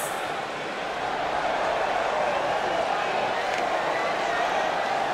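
An arena crowd in the WWE 2K19 video game fills the whole stretch with a dense, steady roar of cheering, loud and continuous with no pauses.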